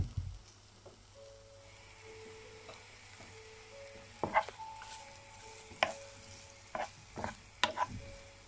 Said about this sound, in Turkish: Kızan yağımızın içine yumurtalarımızı koyuyoruz.